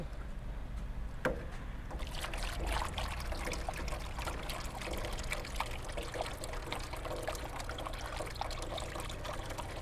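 Homemade Hatay-style tomato paste is strained in a kitchen, with a steady wet pouring and trickling sound up close. A sharper clatter lands near the start, and the liquid flow continues unbroken for about ten seconds with no talking.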